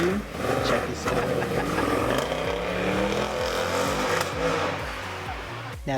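A Mercedes-Benz C63 AMG Black Series V8 exhaust revs repeatedly, a rough, burbling engine note that rises and falls in pitch across several blips, loud and fairly close with a sharp cutoff near the end.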